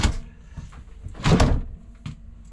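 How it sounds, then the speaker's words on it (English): Drawers in a luxury fifth wheel trailer slide and bump shut, giving a few soft thuds and rolling knocks with a louder clunk in the middle, close by and without talk. "nice drawers"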